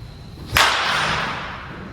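A single sharp crack of a wooden bat striking a baseball, loud and close, followed by a fading rush of noise.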